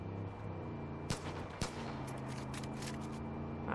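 Enemy gunfire in the video game Far Cry 5: a couple of sharp isolated shots crack out about a second apart over a steady low game backdrop, with a burst of further faint pops near the end.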